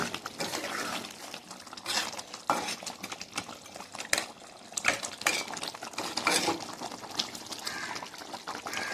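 A spoon scrapes and clinks against a pan while stirring a simmering fish curry, with wet sloshing and repeated metallic taps, close and fairly loud, steady throughout.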